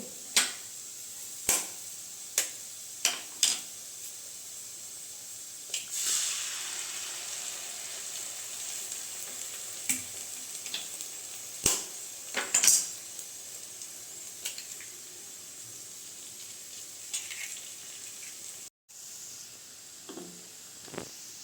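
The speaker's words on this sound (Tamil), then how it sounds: "இப்போ வந்து நான் ரெண்டு முட்டை உடச்சி ஊற்றி சேர்த்துக்கிறேன்" Vegetables frying in a pan for Tamil-style corn fried rice as two eggs are cracked and poured in, with a steady sizzle, sharp taps of shell on the pan edge early on and a brief surge of hissing.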